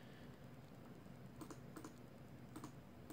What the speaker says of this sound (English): I am just finishing up the bracket, typing it up.